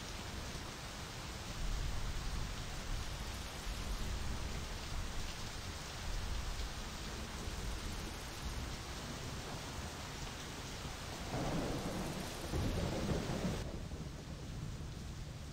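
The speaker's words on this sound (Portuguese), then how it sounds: "Tá no gelo, tá chovendo muito, mano." Heavy rain and rumbling thunder in the driving game My Summer Car, a dense, steady downpour with low rolling thunder swelling twice and no talk.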